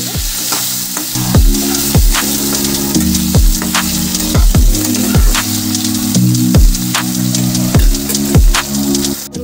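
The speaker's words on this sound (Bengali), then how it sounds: "আলুটাকে আমি 5 মিনিটের মতো ভেজে নেবো ভালো করে।" Large potatoes cut into long strips fry in oil with a dense, loud sizzle, overlaid by a regular series of low knocks and scrapes from a utensil against the pan, close by with no talking.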